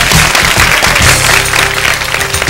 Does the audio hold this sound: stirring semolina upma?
no